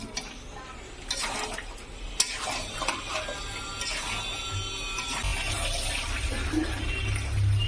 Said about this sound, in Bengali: এবার ভেজে রাখা আলুটা এর মধ্যে দিয়ে দেবো। দিয়ে ভালো করে মিশিয়ে নেব।